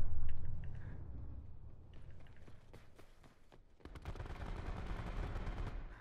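Heavy gunfire in Call of Duty: Black Ops 4, with scattered sharp shots giving way to a dense, rapid automatic volley that carries on steadily, fairly distant and moderately loud.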